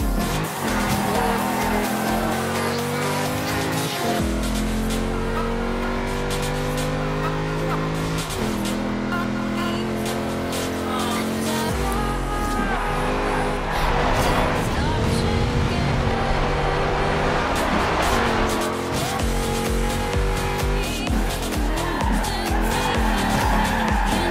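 Rally cars in Forza Horizon 2 race with engines roaring and tires squealing through skids, loud and continuous, with several engine notes rising and shifting over a busy game mix.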